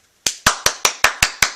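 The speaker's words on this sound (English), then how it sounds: "Please give a big round of applause to Emperor Trang Ha." Seven sharp, evenly spaced claps ring out after a brief silence, each crisp and close with a short decay, like a small studio round of applause welcoming a guest.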